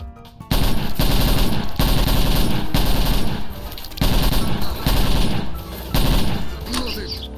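Sustained automatic gunfire in the shooter game Stalker with the Narodnaya Solyanka mod, fighting off Duty faction soldiers inside a mechanics' building: loud, dense bursts of rapid shots repeating in waves, with brief pauses between volleys.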